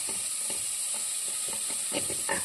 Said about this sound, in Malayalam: നന്നായിട്ടങ്ങ് ഇളക്കി കൊടുക്കണം.